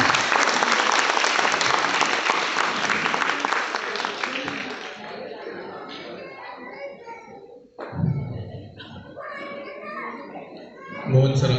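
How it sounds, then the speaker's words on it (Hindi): Loud, sustained audience applause at a stage program, dense clapping that gradually thins and fades out over several seconds, followed by scattered crowd noise and a few voices. "जोरदार तालियों से इनका स्वागत कीजिए फिर एक बार"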